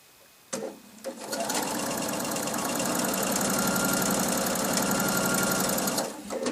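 A sewing machine stitches quilt block pieces for a double wedding ring block in one continuous run of about five seconds, a close, loud, rapid needle chatter that starts and stops abruptly.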